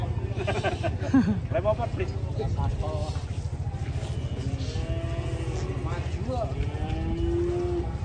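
Cattle moo repeatedly in long drawn-out calls while being loaded onto a truck, over a steady low engine rumble, with people talking in the background.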